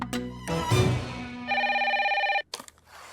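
A telephone rings with a sustained electronic tone, loud and close, in two bursts with a short pause between them and clatter at the end as the receiver is picked up.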